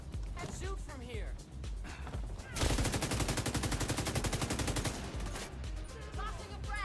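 Rapid automatic gunfire in The Division 2, a dense rhythmic burst of shots lasting a couple of seconds, loud and close amid a busy combat soundscape with talk over it.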